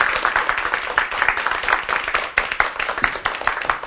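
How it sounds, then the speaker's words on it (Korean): An audience at a leadership lecture applauds to welcome a professor, a dense, steady wash of many hands clapping at once, loud and sustained throughout with no break. "큰 박수로 맞아주시기 바랍니다"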